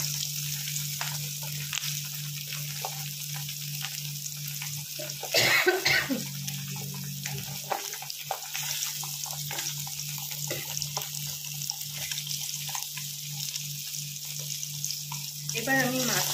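Katla fish pieces lightly frying in oil in a pan for doi katla, a continuous soft sizzle with a low steady hum, broken once by a cough and some clatter partway through.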